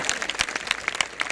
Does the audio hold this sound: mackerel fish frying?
no